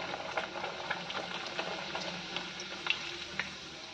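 Puri frying in hot oil, a steady soft bubbling hiss with faint crackles and a few small pops, fairly quiet and close, with no voices.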